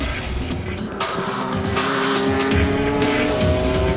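Esso Toyota Supra race car in a JGTC race, slowing sharply with a damaged, likely punctured tire; loud, continuous engine roar and tire noise mixed with other cars on track, steady throughout.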